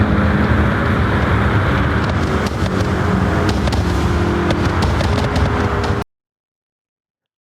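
A car in the No Hesi racing game roars at full throttle while overtaking a Porsche, a loud, dense engine drone with faint ticks that cuts off abruptly into silence near the end.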